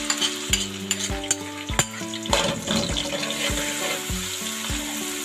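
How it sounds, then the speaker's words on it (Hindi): Chopped large onion hitting hot oil in a pan, bursting into loud sizzling and frying with repeated stirring knocks and spoon scrapes, close and steady for several seconds with no talking. "तो इसको मैं 2 से 3 मिनट तक फ्राई करूँगी ताकि ये प्याज का पानी खुशक हो जाए"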